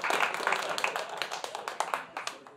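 A small comedy-show audience gives a brief, fairly quiet round of applause, scattered claps thinning out over a couple of seconds.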